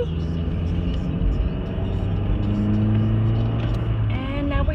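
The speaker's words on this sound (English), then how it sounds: "wait for this car to pass" A car passing on a street, a steady loud engine rumble with some revving that holds throughout, close by, with no talk over it.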